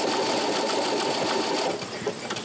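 A Baby Lock Presto 2 sewing machine stitches decorative letters, its fast, even motor hum running close and loud before stopping abruptly, followed by a few faint clicks.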